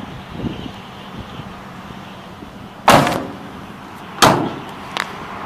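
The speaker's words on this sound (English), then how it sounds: "Both the back doors open up to access" Two heavy door thuds a second or so apart, the rear double doors of a 1999 Chevrolet Astro cargo van being shut, against a quiet outdoor background with light wind.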